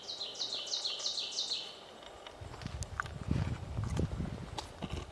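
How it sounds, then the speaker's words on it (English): In a boreal forest, a warbler gives a quick series of high repeated notes early on, fairly clear over steady background hiss, followed by thudding footsteps and rustling nearby. "Hear this warbler calling."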